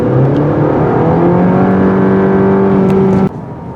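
A 2020 Cadillac CT4 with a 2.7L turbo engine and 10-speed gearbox accelerates hard, its engine note climbing steadily and loud for about three seconds before cutting off abruptly.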